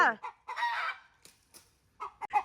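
A rooster crows faintly in a quiet setting, followed by short scattered clucking calls with gaps of silence between them.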